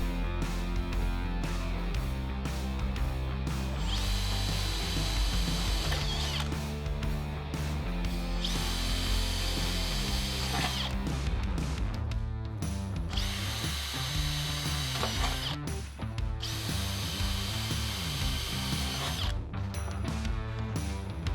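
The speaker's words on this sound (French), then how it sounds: "Percez des trous pour fixer les profilés en U." A power drill bores holes for fixing U-profiles of a sliding glass door, in several whirring bursts that rise and fall in pitch, under a continuous layer of background music.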